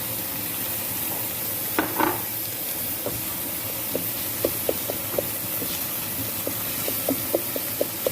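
Tomatoes and a little pepper fry in a pan alongside garlic, a soft continuous sizzle with scattered small pops and crackles throughout, near and fairly quiet, with no voices.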